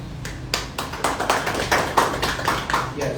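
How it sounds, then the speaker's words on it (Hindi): An audience applauding at a photography workshop certificate ceremony, with a close, steady round of hand claps made of distinct individual claps from a small group, lasting a few seconds. "वो तालियां भी ऐसे संभल के बजा रहे, जैसे घर तक पहुँचते थे।"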